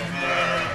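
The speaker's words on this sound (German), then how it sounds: "Carsten, seine Schafe haben schon die ersten Lämmer gekriegt." Sheep and young lambs bleating on a farm, one steady, fairly loud and close bleat filling the short moment with no talk over it.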